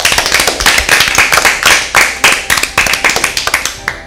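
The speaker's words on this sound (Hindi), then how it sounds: "टीम बी के लिए भरपूर तालियां।" An audience at an Easter Bible quiz applauds a team, with a few hands clapping in quick, fairly steady, loud bursts that run through the whole stretch with no talk over them.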